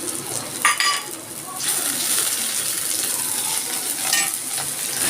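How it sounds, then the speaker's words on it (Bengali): Shrimp and a little onion frying in a pan, a steady close sizzle with brief splashy bursts and stirring, no talk. "অল্প কটা পেঁয়াজ। এর মধ্যে দিয়ে দিচ্ছি আমি চিংড়ি মাছগুলো।"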